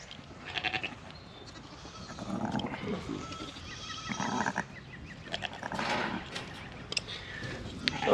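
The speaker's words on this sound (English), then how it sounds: "Last of the Cheviot ewes to lamb." Cheviot ewes bleating on a farm during lambing, several short calls in bursts over a steady outdoor background, fairly close, with some voices now and then.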